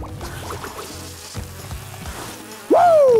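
Buzzing bees in the Crash Bandicoot 2 video game (N. Sane Trilogy, PS4) hum under game music and effects, ending in a loud rising-and-falling tonal sweep.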